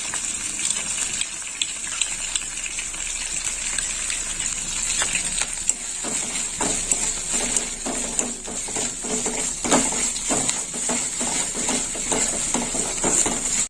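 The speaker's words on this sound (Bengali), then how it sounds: "আর এই গুঁড়ো মশলাটা একটু গুলে নেবো।" A spoon stirs ground spices into a little water to make a paste for a Bengali stem kalia curry, making repeated scraping and clinking strokes close by over a steady background hiss.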